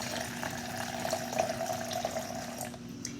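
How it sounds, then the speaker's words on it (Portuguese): Water trickles and splashes steadily into a glass as a small amount is poured, close and continuous for a few seconds, with no voices. "eu vou colocar aqui mais um pouquinho de água num outro copo"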